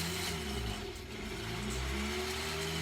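A sewing machine winds a bobbin, its rubber wheel rolling against the drive with a steady, close motor whir and faint rising pitch bands, no talking.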